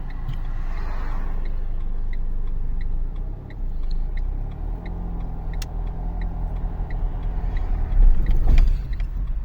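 Car engine rumbling low and steady during a driving-test hill start as the clutch is released suddenly, with a louder surge near the end and faint regular ticking above.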